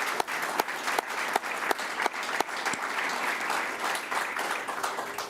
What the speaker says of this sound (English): So I think that deserves one more round of applause for a job well done across the board.